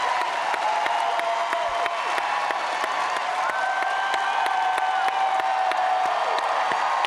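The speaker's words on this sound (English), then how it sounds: "Listen to that crowd" A large crowd at Star Wars Celebration roars with sustained cheering and applause, a dense continuous wall of claps and whoops filling the hall throughout.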